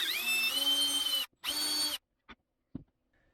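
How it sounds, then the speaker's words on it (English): Power drill boring a pilot hole while installing a sloped Murphy bed: two close, high-pitched whirring bursts, the first longer, followed by a few faint clicks and knocks. "Then we're going to drill our first pilot hole right there."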